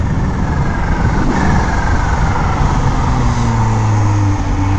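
A supercharged Kawasaki ZH2 motorcycle engine drones loudly and continuously while riding, with a steady dense roar and slowly shifting pitch as it holds speed, no voices over it.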